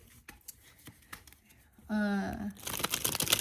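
A tarot deck is shuffled by hand, a brief burst of riffling card flutter followed by rustling and crinkling handling, close and fairly loud, with a voice talking around it.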